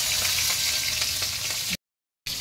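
Green chilies dropped into hot oil already spitting with mustard seed and dried red chili, giving a steady close sizzle and crackle that cuts off abruptly near the end, then resumes briefly.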